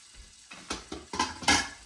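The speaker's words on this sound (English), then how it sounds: "So I'm going to put a tablespoon of shallots in the pan and a teaspoon of garlic." Shallots and garlic hit a hot pan for a roast chicken dish, giving a soft sizzle broken by several close scraping and clinking bursts that grow louder toward the end of the clip.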